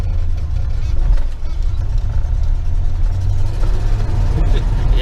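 A 1988 Chevy Custom Deluxe 30 truck engine running in granny gear, a low steady rumble close by with slight fluctuations, under a faint voice.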